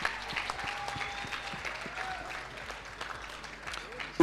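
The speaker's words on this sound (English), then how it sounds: "Can we give her a round of applause" An audience at a national ICT summit claps in a loose, moderate round of applause for a contest winner, with scattered individual claps and some voices murmuring underneath.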